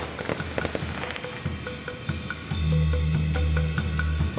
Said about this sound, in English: Wow, firecrackers.